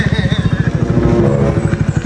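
A passenger motorcycle's engine runs close by in a steady pulsing putter, with people talking over it.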